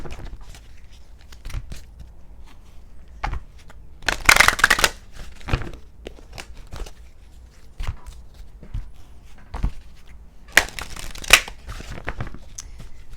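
Halloween Oracle cards shuffled by hand in irregular bursts, with two louder riffling flurries among softer sliding and tapping, close and without talk.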